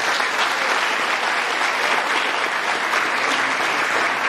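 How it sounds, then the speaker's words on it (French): Audience at a public conference on peace and national reconciliation applauds the speaker, a dense, even clapping that holds steady and fairly loud throughout without breaks or talk. "je voudrais vous demander que nous l'applaudissions très fort."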